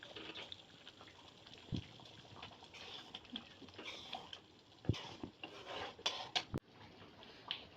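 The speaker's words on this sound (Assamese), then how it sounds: "খজুৱাটো কম হ'বৰ কাৰণে দালি কাটিলোঁ" A knife cuts through taro flower stalks for a dried-fish dish, giving close, irregular scraping and rasping strokes with a few sharper knocks against a hard surface.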